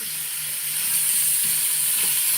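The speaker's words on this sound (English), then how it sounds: "we're just going to let that fry for a little bit." Cubes of beef skirt steak fry in a pan, giving a continuous even sizzle and hiss with faint stirring, close and alone without speech.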